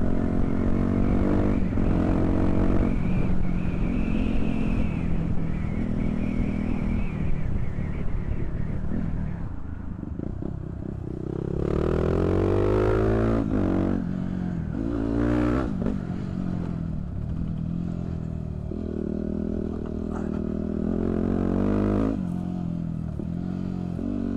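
A Yamaha WR250 dirt bike rides along with a steady engine drone that rises and falls as it revs, heard up close under wind noise, with brief voices mixed in.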